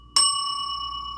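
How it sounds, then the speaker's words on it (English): A single bright bell strike rings out alone, clear and close, its pure metallic tone sustaining and slowly fading after the sharp hit. "Let's hit the bell on that."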